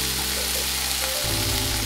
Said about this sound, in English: lay the uncured bacon in the skillet